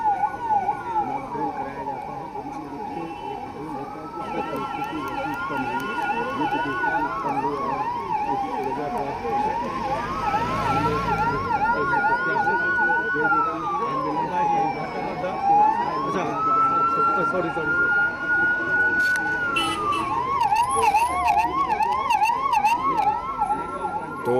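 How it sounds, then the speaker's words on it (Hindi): Sirens from fire brigade, police and ambulance vehicles wail together during a war-preparedness mock drill in Ranchi, India, with overlapping rising and falling tones that stay loud and steady throughout. "यहाँ तमाम गाड़ियाँ, फायर ब्रिगेड की गाड़ी है, पुलिस की गाड़ी है, एम्बुलेंस है, वो तमाम गाड़ियाँ पहुँच रही हैं।"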